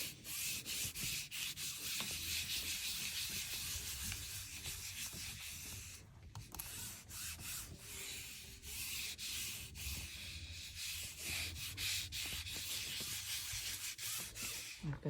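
Paper being rubbed by hand over a gelli printing plate, a steady, close, dry scraping and brushing that runs almost continuously with brief pauses and rhythmic strokes.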